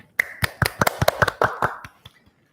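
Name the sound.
applause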